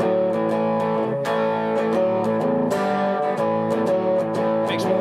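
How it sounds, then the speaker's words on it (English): Electric guitar played through a subtle blues overdrive pedal, sustained chords and melodic notes with mild grit and ringing tone, loud and close, picked in an unhurried rhythm with no voices. "first I'm just going to do the blues, which is their like really subtle overdrive"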